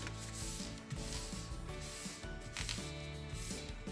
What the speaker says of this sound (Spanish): Lo que voy a hacer es doblar una pequeña parte de nuestra hojita